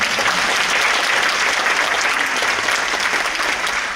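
A large audience applauds at a mayoral inauguration ceremony in Yongin city, a dense, steady wash of clapping that fills the whole stretch at even, strong loudness.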